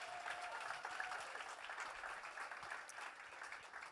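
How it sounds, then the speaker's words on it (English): Audience applause at an evening Gaela event supporting Irish tradition, a dense, continuous patter of many hands clapping at moderate distance, steady for the whole stretch. "Give everyone a round of applause for such a beautiful night."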